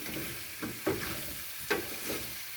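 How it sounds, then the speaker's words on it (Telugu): Vegetable pieces for sambar are stirred in a pan, giving a few quiet scraping strokes spaced irregularly over a faint background sizzle, with no talking. "మనం పూర్తిగా దీన్ని ముక్కల్ని ఇలా మగ్గనివ్వాలి."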